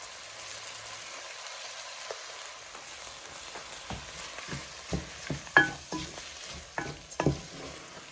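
Washed rice goes into a pot of curry chicken with fresh thyme. A soft sizzle sits under repeated scraping stirs and clacks that grow louder and more frequent toward the end.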